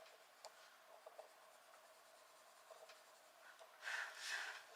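Soft scratchy strokes of a teal coloured pencil shading on paper in a planner, light short rubs repeating quietly at close range, ending in a brighter burst of quick scribbling.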